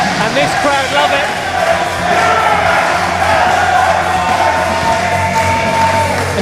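A loud wrestling crowd roars and cheers continuously for Hex's return at a DOA show, a dense wall of shouting and whooping voices, with an announcer talking over the din.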